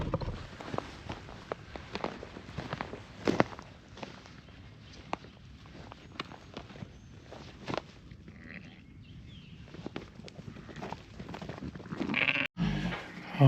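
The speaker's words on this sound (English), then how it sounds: "Let's get these lambs in here out of the wind." Lambs and sheep bleat repeatedly in a farm lambing pen, with shuffling footsteps and movement throughout, the calls scattered near and moderately loud.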